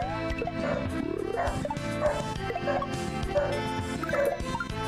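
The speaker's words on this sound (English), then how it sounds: "I know what he's barking at." A dog barks loudly and repeatedly over continuous music during a game playtest, the barks coming in short bursts about once a second.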